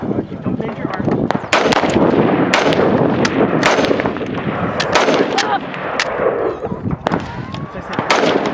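Rifle shots crack one after another at an outdoor shooting range in Queen Valley, sharp loud reports at irregular intervals with people talking between them.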